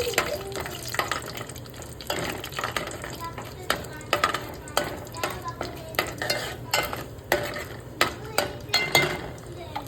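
Food for a chikkudukaya egg curry fries in a pan under constant sizzling while a spatula scrapes and clatters in a brisk, irregular rhythm throughout, close and fairly loud.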